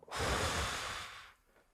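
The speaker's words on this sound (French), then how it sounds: "Une respiration." A single deep exhale during guided meditation, a long breathy rush that swells quickly, holds for about a second and then fades, close and alone.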